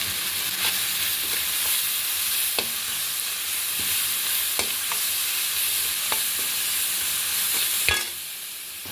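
Tomatoes soften as they sauté in a pan for an idli pottukadalai kurma, a continuous close sizzle broken by sharp spatula scrapes and taps, ending with a drop in loudness near the end.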